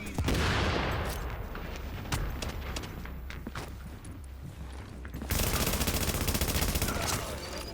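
Video game gunfire from a Lexington challenge mission, rapid close bursts of automatic shots crackling densely, then a louder, continuous stretch of firing toward the end.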